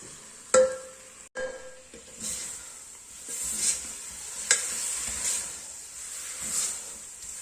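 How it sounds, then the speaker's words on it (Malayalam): Beef pieces stirred into masala in a hot pan, with a spoon scraping and knocking against the pan over a steady sizzle, louder clatters near the start and softer stirring after. "ബീഫ് ചേർത്തിട്ട് നന്നായി ഇളക്കി കൊടുക്കുക."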